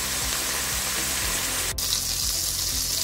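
Butter melts in a frying pan alongside crumbly seasoned minced pork, giving a steady, close hiss and crackle of sizzling fat that runs without a break, with no talking.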